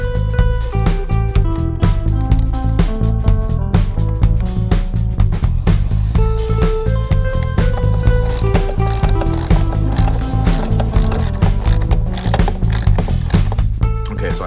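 A hand ratchet clicks rapidly while tightening bolts on the tail mount of a 2019 Honda CB500X. The crisp, close pawl clicks come in repeated bursts of strokes with brief pauses between them, loud and alone the whole time.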